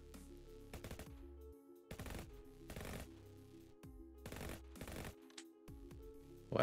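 Rapid bursts of weapon fire from a turn-based roguelike video game, several clustered volleys of sharp cracks repeating at an uneven rhythm over a steady game music bed, loud and close, with no talking.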